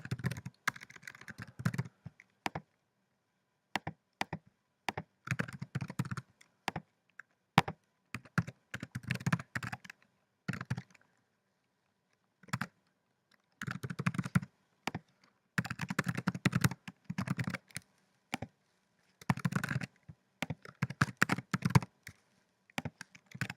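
Someone types on a computer keyboard while registering in a web app. The clicks come in close, quick bursts separated by short silent pauses, and nobody speaks.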